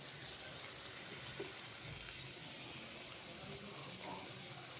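Water from a mixer jar is poured into a simmering goat tripe (boti) curry, giving a steady, fairly faint rushing and splashing wash that lasts throughout.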